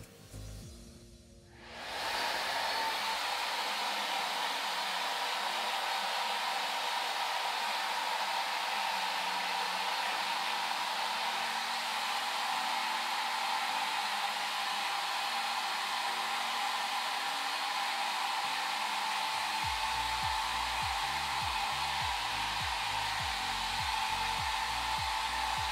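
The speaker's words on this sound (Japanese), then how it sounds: "ホリスティックケアドライヤーの RP を使っていきます。 まずは前髪付近を乾かします。" Creates Holistic Care hair dryer RP switched on to dry the hair around the bangs, a close, loud, steady airy whoosh running continuously after a brief start-up, its tone shifting lower near the end as the dryer moves.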